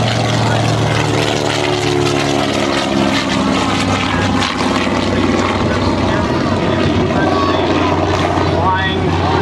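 Grumman TBM Avenger, a General Motors–built propeller warplane, flying at the 2014 Cleveland National Air Show, its loud steady engine drone filling the whole stretch with a slight rise near the end, a voice talking over it.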